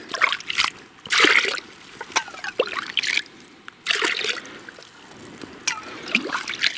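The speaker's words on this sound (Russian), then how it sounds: "Думал, совсем промерз ручей. Но нет. Пробила брешь. Вода вышла" Water wells up through a hole broken in the ice of a frozen stream in the winter taiga, heard as close, irregular splashes, sloshing and trickling that come in uneven bursts.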